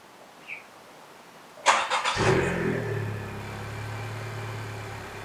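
A 10th gen Honda Civic Si engine cranks and fires up with a sharp burst, then settles into a steady idle that runs on alone to the end, close by.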